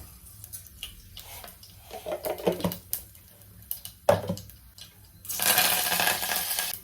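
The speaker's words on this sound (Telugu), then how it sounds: "ఇందులో ఆయిల్ వేస్తున్నాను. ఆవాలు, జీలకర్ర," Mustard seeds and cumin drop into hot oil in a pan, starting with scattered ticks and light clatter, then breaking into a loud, steady sizzle and crackle near the end.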